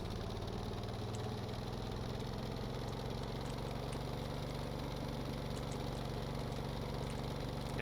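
Engine on a helicopter rotor build in the video game Stormworks: a steady, droning mid-pitched hum with constant rhythmic pulsing, holding at an even level throughout without talk.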